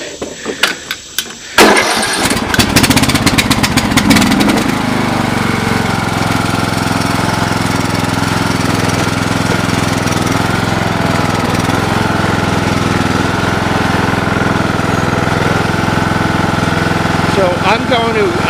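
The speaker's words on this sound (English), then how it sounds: "This is a cold start." A Craftsman LT2000 lawn tractor engine cold-starts after a few brief cranking bursts, then catches and settles into a steady, loud, close idle that holds for the rest of the stretch.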